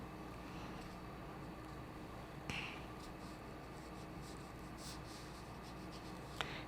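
A pencil scratches loosely across paper while sketching a gnome's beard, a quiet continuous soft rubbing with a couple of faint taps, close and alone.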